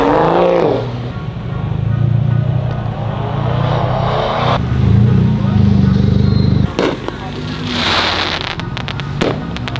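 A McLaren sports car's engine roars and revs loudly nearby at a crowded car gathering in Saskatchewan, with sharp popping bursts and people talking throughout.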